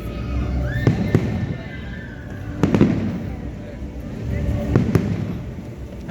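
Fireworks bursting in the sky outdoors, with several sharp booms spaced a second or two apart over a steady, noisy background. Voices murmur around the bursts.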